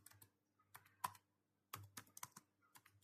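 Typing on a computer keyboard: quiet, close key clicks in short bursts separated by a brief pause, with a faint steady hum underneath.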